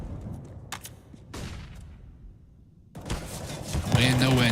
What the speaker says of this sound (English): Eats a bullet from Fallen.